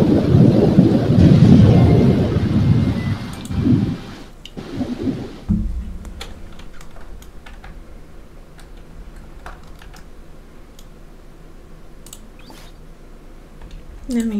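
In a life-simulation game, a rumble of thunder and heavy rain roars loudly for the first few seconds, then cuts off to quiet background ambience with scattered sharp clicks.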